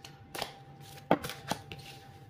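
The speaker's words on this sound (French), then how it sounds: "je mélange un tout petit peu" Tarot cards are shuffled briefly by hand, a few soft riffling and tapping bursts, close and quiet, with no talking.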